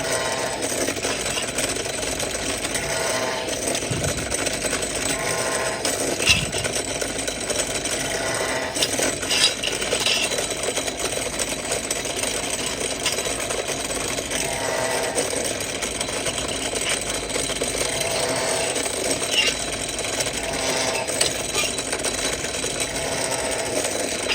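Continuous mechanical whirring of a power drill boring into the metal of an electrical transformer, steady and close, with slight surges in pitch over its length.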